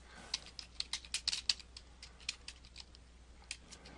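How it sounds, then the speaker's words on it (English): Keywords typed on a computer keyboard, a quick close run of light key clicks that slows toward the end, faint and alone without talk. "or you can type them in"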